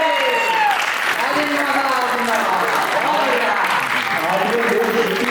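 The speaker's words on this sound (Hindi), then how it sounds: "माही के पिताजी के लिए तालियां बजा।" Sustained audience applause fills an Indian poetry gathering, a dense steady clapping from a seated crowd, while someone speaks over it through a sound system.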